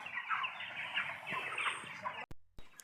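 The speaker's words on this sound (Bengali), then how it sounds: "খাবার দেওয়া আছে মুরগিগুলো খাচ্ছে খুব সুন্দর করেই" Broiler chickens on a farm clucking together as a dense, continuous flock chatter at moderate distance, cut off briefly near the end.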